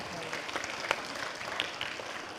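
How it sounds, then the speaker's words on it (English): Scattered audience clapping at a futurescape forum talk, fairly faint and thin, with soft irregular claps rising from a steady background hiss rather than full applause. "keep clapping and go back to your seats"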